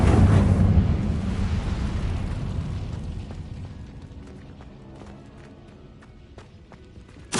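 An Incendio fire spell cast in the video game Hogwarts Legacy erupts in a loud, roaring burst of flame that slowly dies away over several seconds, with faint clicks and steps underneath.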